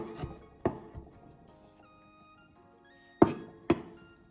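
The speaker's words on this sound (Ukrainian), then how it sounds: "Візьмемо стіки і наріжемо його" A knife chops smoked bacon into cubes on a board: a handful of sharp, separate knocks, three early and two close together later, with quiet gaps between them.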